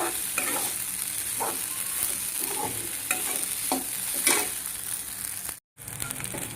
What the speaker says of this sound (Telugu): స్టవ్ కొంచెం సిమ్లో పెట్టుకొని దీన్ని ఇలానే కలుపుకుందాం.